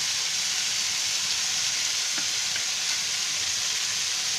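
Vegetable filling for aloo matar samosa sizzling steadily in a hot pan, a loud continuous frying hiss throughout with a few faint stirring scrapes and no talk.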